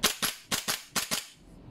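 Dry firing an unloaded G&G MGCR 556 airsoft gas blowback rifle produces six crisp, close clacks in three quick pairs, each a sharp snap of the blowback action, then silence.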